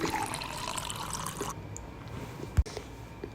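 Two glasses of water pour steadily onto one glass of rice in a pressure cooker pot for about a second and a half, then stop, followed by a single dull knock.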